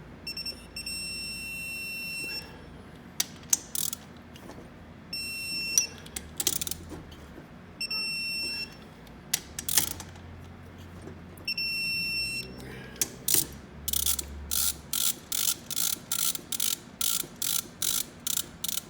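Rotax 503/582 crankcase bolts being brought up to full torque with a ratcheting torque wrench: repeated short metallic clicks in bursts, ending in a rapid, evenly spaced run of sharp clicks, close up with no talking.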